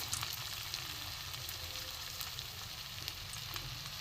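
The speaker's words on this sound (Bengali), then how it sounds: "ফের আমি এই বলের মতো করে, ছোট ছোট বলের মতো করে আমি ছেড়ে দেবো তেলে।" Small balls of potol and shrimp kebab mixture fry in hot oil with a soft, continuous sizzle and faint bubbling, fairly quiet and steady, with occasional light pops and no voices.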